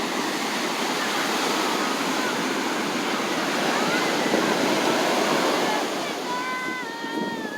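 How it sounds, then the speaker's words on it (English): Ocean surf at a beach in Carlsbad, California, a continuous broad roar of breaking waves that swells and eases, with no talking over it. "we're in Carlsbad, California, at the beach"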